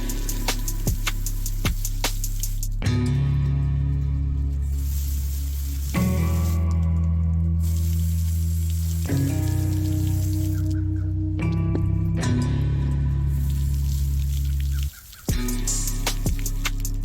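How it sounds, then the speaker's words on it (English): Water spray rinses off items after cleaning with Super Clean degreaser, a steady hissing splash running in long bursts with brief pauses between, close and fairly loud with no voices. "let's get these rinsed off again and check them out"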